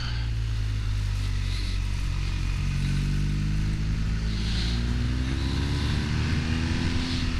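A motorcycle engine drones steadily while riding, with rising and falling pitch as it revs, accompanied by constant wind rush.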